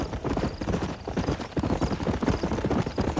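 Horse hooves clip-clopping in the video game Red Dead Redemption, a quick, steady rhythm of hoofbeats heard up close and alone, without talk.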